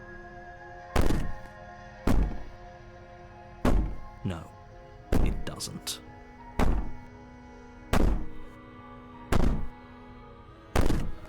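A door in the video game Slay the Princess is banged on repeatedly, with about eight heavy, evenly spaced thuds, some doubled, and a voice speaking briefly between them.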